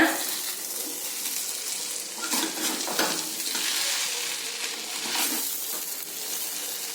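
Wheat flour noodles are stirred in a pan over a medium flame, with a steady sizzle and repeated scraping and tossing strokes throughout.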